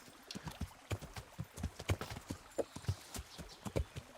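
A horse gallops in the medieval role-playing game Kingdom Come: Deliverance, its hooves pounding in a steady, rapid clip-clop rhythm, clear and up close with no talking.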